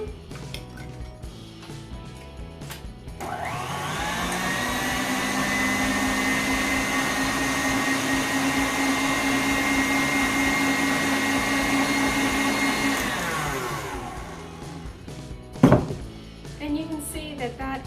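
An electric mixer whips red velvet cupcake batter, a steady whirring motor hum that starts abruptly, runs for about ten seconds and cuts off, followed by a clatter of utensils; a voice talks quietly around it.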